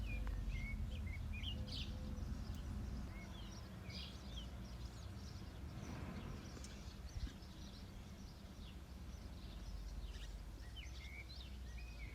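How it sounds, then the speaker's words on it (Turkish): Several birds chirp and trill repeatedly in the distance over a steady low outdoor hum, with no one speaking. "Arka planda kuşlar nasıl çıldırıyor fark ettiniz mi?"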